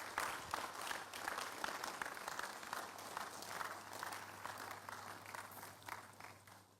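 A crowd applauding steadily at a church midweek communion service, dense overlapping claps filling the room for several seconds, with a low hum underneath.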